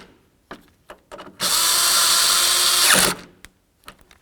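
A power tool drives in the mounting bolts of a rear third-door handle on a 1994-2004 Chevy S-10, giving one loud, steady whir of about a second and a half, with light clicks and handling noises before and after.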